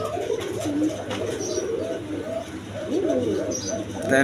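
Soft, low cooing from a pair of blue pigeons for sale repeats throughout against a steady background hum, with faint chirps and some indistinct voices nearby.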